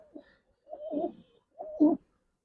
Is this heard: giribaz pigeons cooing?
yes